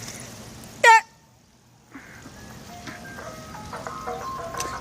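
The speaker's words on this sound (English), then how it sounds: "Hey, ice cream truck." A passing ice cream truck plays its jingle, a string of thin electronic tones at moderate distance, starting after a sharp loud honk-like burst and continuing steadily.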